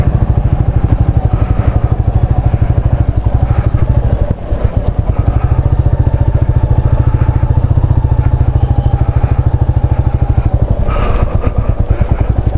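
Motorcycle carrying a pillion rider on a muddy mountain road in Sikkim, engine chugging steadily and loud throughout, with clattering thuds as the wheels skid and slip in the mud.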